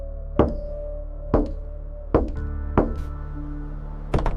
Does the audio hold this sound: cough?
no